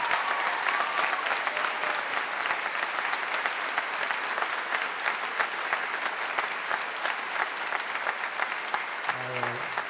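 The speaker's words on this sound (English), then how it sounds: "We can have a round of applause for all of them" A school achievement day audience gives a sustained round of applause, a dense wash of many hands clapping steadily and evenly for the whole stretch, loud and close.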